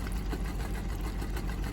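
A van's engine idles after its exhaust was cleared out while still spitting water, a steady low rumble with a fast, even chug that runs close and unbroken with no talk.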